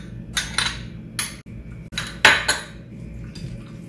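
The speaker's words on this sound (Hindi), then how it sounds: "आओ इसे अच्छे से मिक्स कर लेंगे." Spoon scraping and clinking against a bowl while chicken marinade with spices is mixed for chicken jalfrezi, a few bright metallic knocks and scrapes close up with quieter stirring between.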